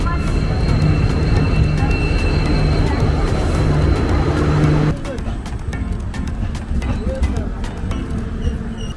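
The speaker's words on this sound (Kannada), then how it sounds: "ಈಗ ನೇತ್ರಾವತಿ ಟ್ರೈನ್ ಹತ್ತಿದ್ದೇವೆ" A Netravati express train heard from inside a carriage: a steady, loud rumble with constant hum, and the level drops abruptly partway through as the interior sound shifts.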